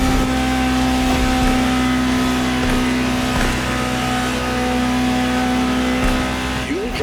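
A Ferrari 250 GTO in the racing game The Crew Motorfest holds a loud, sustained engine drone with a steady high tone, a voice talking over it throughout.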